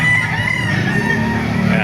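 Roosters and gamecocks at a chicken market in Baliuag, Bulacan: a brief, loud, close burst of crowing and clucking fowl.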